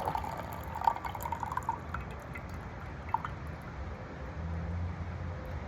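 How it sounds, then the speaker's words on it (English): Tea trickles into a cup at close range, a soft, faint liquid stream with a few small drips and clinks, quiet and steady with no voices. "That was a slightly better pour."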